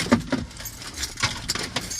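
A set of keys jangles in quick metallic bursts, close and fairly loud, with several irregular shakes and clinks over two seconds.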